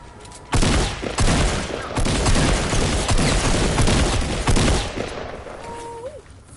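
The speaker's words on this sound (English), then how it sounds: "They're shooting" Dense, sustained gunfire in the Fortnite battle royale video game, rapid overlapping shots and bursts that stay loud and continuous for several seconds before easing off near the end.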